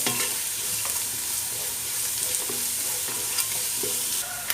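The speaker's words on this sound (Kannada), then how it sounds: "ಆಯ್ತು ಮತ್ತೆ ಶುಂಠಿ ಬೆಳ್ಳುಳ್ಳಿ ಪೇಸ್ಟ್ ಪಾಡ್ಯಾಕ ಮಿಕ್ಸ್ ಮಾಡ್ತದ." Ginger garlic paste fries and is stirred in a pan, with a steady close sizzle and scraping stir strokes for the whole stretch, loud and unbroken with no talk.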